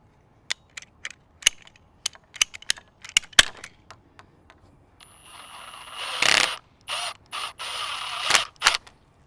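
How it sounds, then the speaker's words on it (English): PVC pipe being cut with a ratcheting PVC cutting tool, a series of sharp close clicks as the handle is squeezed, followed by a creaking squeal as the blade bites through the plastic and snaps through. "I'm going to use my PVC cutting tool and then cut about right there"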